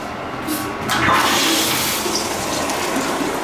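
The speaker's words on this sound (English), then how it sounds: "Alright, flush the potty and then let's go." A stainless steel urinal at a zoo flushes with a sudden rush of water that swells after a quiet start, then keeps up a steady, fairly loud hiss of running water to the end.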